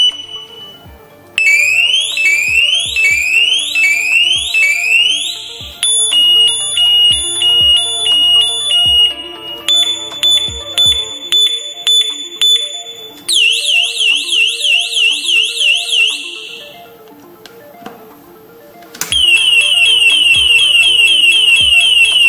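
An industrial electronic warning horn cycles through several loud tones: rapid rising whoops, steady beeps, pulsing trills and warbling sweeps, each pattern repeating before switching.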